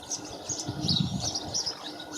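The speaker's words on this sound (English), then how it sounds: "That's a dunnock, and that's a greenfinch, male greenfinch, I think." Small garden birds, a dunnock and greenfinches, chirp and twitter around bird feeders in short bright calls, moderately close, over faint outdoor background noise.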